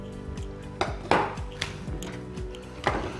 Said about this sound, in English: we're going to cut these into little floret pieces